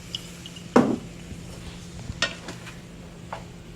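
Pork fried rice with soy sauce is stirred in a pan, giving scattered scraping clinks of a utensil against the metal over a faint, steady sizzle, with a few sharper knocks spread unevenly through the stretch.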